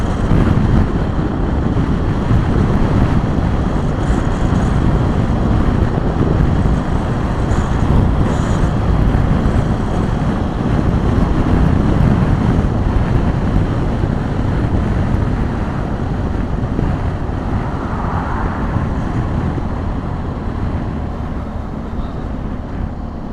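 A 2018 BMW 1200 GS Adventure motorcycle cruising at 70 mph, heard as a loud, continuous roar of engine and rushing wind buffeting the microphone, with no talking.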